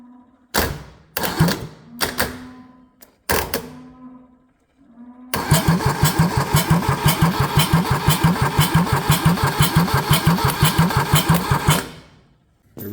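Kubota D640 diesel engine fitted with a D722 head cranks in several short, uneven bursts, then catches and runs with a loud, rhythmic diesel knock before cutting off.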